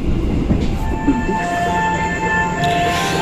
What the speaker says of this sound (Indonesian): Di sini tuh kereta api Serayu itu masuk jalur belok, jalur 1 di stasiun Karawang